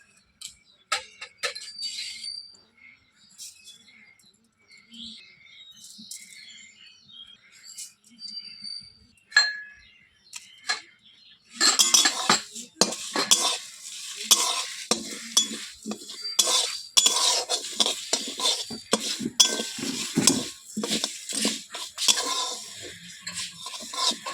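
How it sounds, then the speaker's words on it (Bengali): Spices for mango pickle dry-roast in a pan, first as light scattered clinks and then as busy scraping and stirring with a faint sizzle. Birds chirp softly in the background. "মশলাগুলোকে ভেজে নিচ্ছি"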